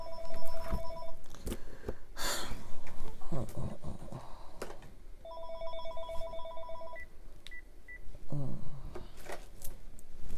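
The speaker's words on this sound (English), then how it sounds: "Not a phone call we need." An electronic telephone rings in repeated bursts of bright, warbling trills separated by pauses, fairly close and loud, with a person talking in between.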